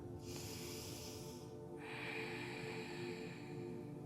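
A slow, steady inhalation during a yoga practice, a soft airy hiss close to the microphone lasting several seconds with a brief shift midway, heard alone without speech.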